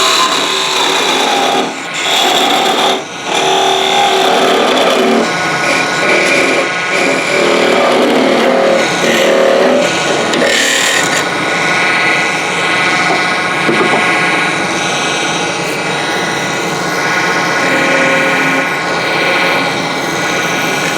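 A figured maple dough roller being parted off on a wood lathe, a loud continuous rasping cut with shifting tone as the tool bites into the spinning wood, close and alone without speech.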